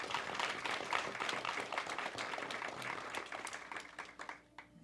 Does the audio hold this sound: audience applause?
yes